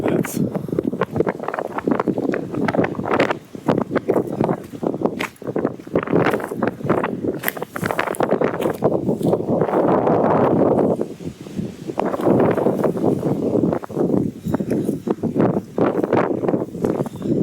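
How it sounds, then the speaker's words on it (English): Strong gusting wind buffets the microphone outdoors beside the River Clyde at Ardmore Point in March, a loud continuous roar with rustling, and people chat intermittently underneath. "Oh, so it's so windy."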